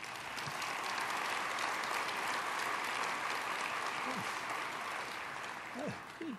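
Audience applause after a public health speech at a large annual meeting, a dense sustained wash of clapping throughout, with brief faint voice fragments poking through near the end.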